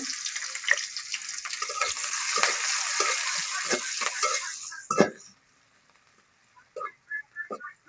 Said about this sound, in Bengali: কাটা পেঁয়াজ মরিচগুলো দিয়ে দিলাম তেলের পরে